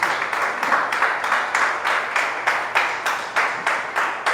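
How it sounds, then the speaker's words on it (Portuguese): A church congregation claps in unison at a service, a steady rhythmic beat of about three claps per second, moderately loud and even, with no one speaking over it. "Dê um forte aplauso ao Senhor"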